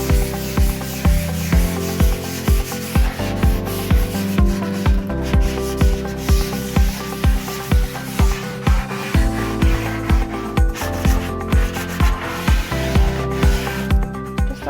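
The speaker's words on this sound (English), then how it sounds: "I'm just prepping this piece with 220 grit sandpaper." A wooden nightstand is scuff-sanded by hand with 220 grit sandpaper in steady, rapid back-and-forth strokes, loud and close with a regular rhythm and no talk.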